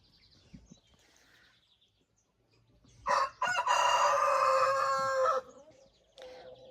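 A rooster crows loudly in a long, harmonic call, with softer clucks from mixed-breed chickens scattered before and after.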